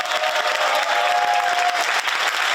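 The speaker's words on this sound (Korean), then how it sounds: "박수 한번 다시 주세요" Audience applause at a history talk concert featuring lawmakers, a steady dense clapping wash filling the room, with a faint sustained tone running through the middle.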